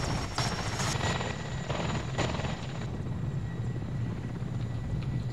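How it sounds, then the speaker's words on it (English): Video game helicopter rotors in ArmA 2 thump in a steady, loud chop with continuous engine whine and rushing noise throughout. "we flew two helicopters"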